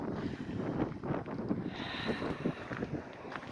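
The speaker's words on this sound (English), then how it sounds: "It's a little windy and it's a little chilly" Soft wind rumbles and buffets the microphone at a low level, steady with small gusts throughout.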